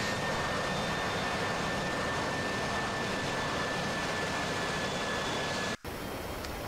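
A MiG-19 jet roars steadily in DCS combat, a loud, continuous broadband engine rush with a faint high whine, interrupted by a brief cut near the end.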